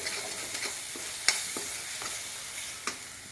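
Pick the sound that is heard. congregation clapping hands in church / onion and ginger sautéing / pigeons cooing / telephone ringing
onion and ginger sautéing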